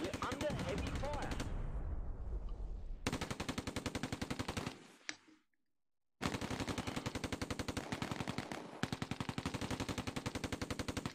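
Rapid machine-gun bursts crackle continuously in the Close Combat 2 war game, breaking off into a brief near-silence before the relentless automatic fire resumes at full intensity.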